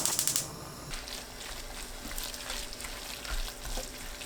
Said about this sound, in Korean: 전체적으로 끓으면 그때부터 4분 더 중불로 볶습니다